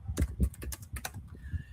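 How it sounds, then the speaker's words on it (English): Quick keystrokes tap on a computer keyboard, a close, irregular burst of sharp clicks, with no voices. "I can just use my keyboard to copy paste using Control C or Command C and pasting"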